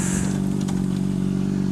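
A white Honda CBR 600RR sport motorcycle cruises along a country road, giving a steady, loud engine drone with a strong low hum and rushing wind noise.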